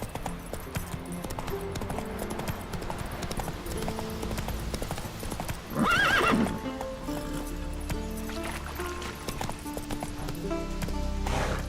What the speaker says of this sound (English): Come on, Roach